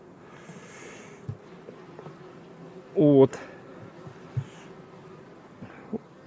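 Faint bee buzzing hums in the background, broken by a brief loud burst near the middle and a few scattered soft knocks, with a short spoken word.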